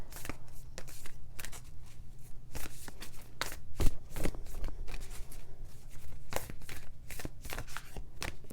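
Oracle cards from a Moonology deck shuffled by hand, a steady run of crisp riffling flicks and soft slaps that sound close and fairly loud, with no talking.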